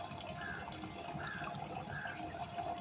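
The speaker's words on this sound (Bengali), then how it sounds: "এর চারিদিকে জলটা দেবো যাতে চারিদিকে মাটিটা ঠিকভাবে সেট হয়" Water poured from a vessel around the base of a jujube tree planted in a pot, a steady continuous splashing and trickle into the soil, close and moderately quiet with no talk.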